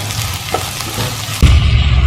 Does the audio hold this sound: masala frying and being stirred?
yes